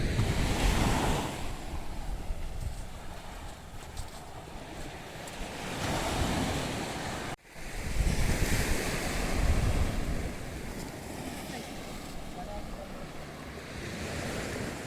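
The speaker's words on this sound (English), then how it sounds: "Listening to the waves." Ocean waves breaking on the shore at Paradise Beach in Gokarna, a continuous surf roar rising and falling in slow swells, with wind buffeting the microphone.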